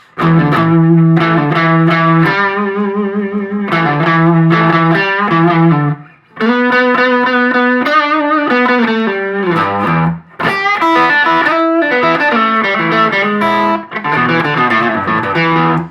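Distorted electric guitar through a distortion pedal with no reverb, blues rock, plays sustained chords and melodic lines with a dry, close sound in natural room acoustics, pausing briefly between phrases.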